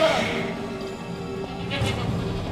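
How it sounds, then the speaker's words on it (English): Goats bleat in a TV show scene, a wavering bleat rising briefly over a busy background of mixed noise and voices, moderately loud and close. "Get out of there, goat! Notice the goats."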